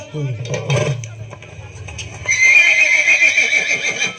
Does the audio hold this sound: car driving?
no